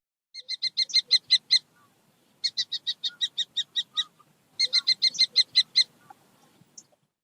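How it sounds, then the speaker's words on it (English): A falcon calling in three rapid bursts of sharp, repeated high kek notes, each run of about eight to ten cries, loud and close with silence between the bursts. "Falcon."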